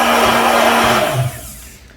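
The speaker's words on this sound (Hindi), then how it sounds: "तो मैं यहाँ हैंड ब्लेंडर से कर रही हूँ" A hand blender whirs steadily through an avocado dip with a buzzy motor drone, then winds down and fades out near the end.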